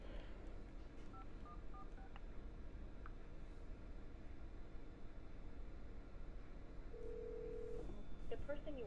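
Phone call being placed, with faint dialing tones and a low ringing signal over a steady background hiss, brief tones late in the clip.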